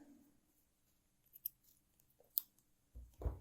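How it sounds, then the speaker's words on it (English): Scissors cut crochet yarn in a quiet room: a couple of faint, sharp snips, then a louder close handling thump at the end, with no speech. "So I'm going to get my scissors"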